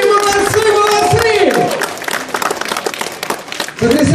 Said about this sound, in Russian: Они все еще аплодируют, 15!